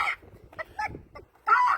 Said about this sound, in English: Now here's an actual chicken.